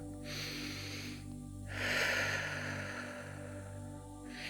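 Slow, deep breathing in and out through the nose, close and soft: one long hissing inhale and exhale after another against a quiet, steady hum.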